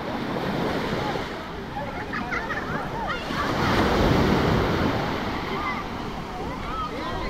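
Waves breaking on a busy sunset beach at Honnavar near the Aganashini, a steady broad wash of surf swelling in the middle, with wind buffeting and voices of people nearby.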